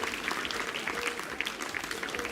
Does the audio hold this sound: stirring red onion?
no